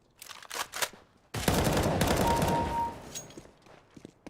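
Bursts of rapid gunfire crackle in quick succession in the video game CS:GO, with a sustained volley in the middle, followed by scattered shots fading out.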